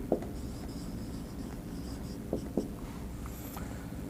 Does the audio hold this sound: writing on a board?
yes